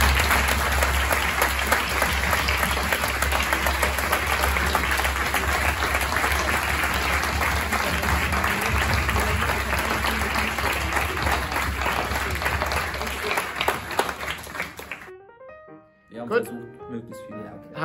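Sustained, dense applause from a large audience for regional parliament representatives at a school event, steady for about fifteen seconds before cutting off abruptly into near silence with faint speech.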